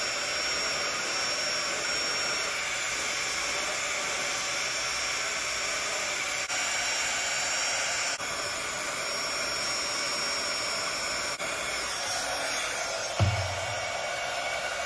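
A heat gun blows a steady, loud rush of hot air over the middle of an acrylic sheet resting on a Cricut cutting mat. The roar holds constant for about fifteen seconds, with a soft knock near the end.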